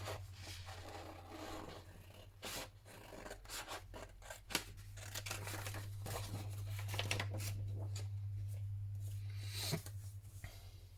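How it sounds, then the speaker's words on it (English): Scissors snip through a paper craft tag on a quiet table, with a soft run of close, crisp cuts and small rustles of paper. "So I'm going to cut out the tag, like so."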